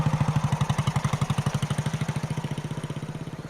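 A heritage château owner's small motor sputters and putters in a rapid, steady pulse, close and loud, with no other sounds.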